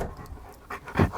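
A Burmese Mountain Dog pants in short, breathy bursts close by, with the loudest huff at the end of the brief clip.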